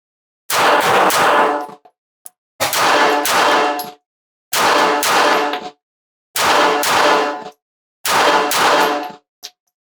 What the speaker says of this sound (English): we'll start again with the Bodyguard 2, this time at our top right target, and we'll see how many of those double taps we can put on the target.